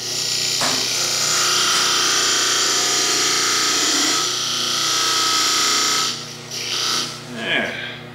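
A wood lathe spins while a tool cuts a small groove into a turned wooden finial, making a steady close scraping whir that breaks up into shorter scrapes toward the end.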